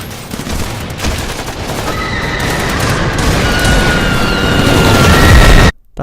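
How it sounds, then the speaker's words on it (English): A dense explosion sound effect with a sustained roaring, crackling burst, loud throughout, ending in an abrupt cutoff near the end. "Esplosione."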